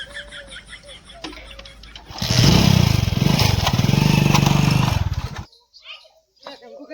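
A motorcycle engine starts up close by and runs with a loud, throbbing idle for about three seconds, then cuts out abruptly, with voices talking before and after.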